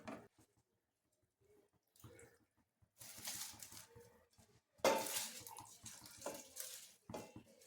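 Soaked rice tipped into a pot for chicken fry piece biryani, intermittent wet pours and splashes with clinks of metal, quiet pauses between.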